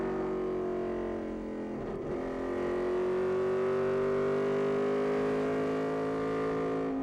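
Stock cars in the 1999 DieHard 250 NASCAR Xfinity race at the Milwaukee Mile produce a steady, loud engine drone that rises gradually in pitch over several seconds, with a brief dip near the two-second mark as a car lifts in the corner.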